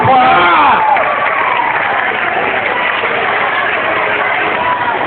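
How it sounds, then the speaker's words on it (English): Students in a school assembly applaud and cheer for their faculty, a loud continuous roar of clapping and shouting that fills the whole stretch, with a voice briefly audible at the start. "We're giving you guys a nice round of applause."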